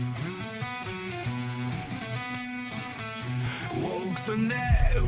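A full song made from scratch by a local AI music generator, with dense layered instruments and a sung melody running throughout at moderate loudness, swelling slightly toward the end.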